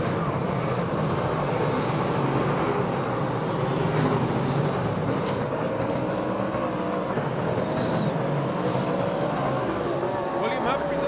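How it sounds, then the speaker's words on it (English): Speedway race cars bunching up down the main straight of a dirt track, a continuous roar of engines from a distance with a broad wash of noise that holds steady throughout. "Cars getting collected up the main straight."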